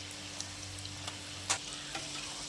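Cassava susiyam coated in a maida and gram flour batter deep fries in hot oil, giving a steady close sizzle with scattered small pops and crackles; no one speaks.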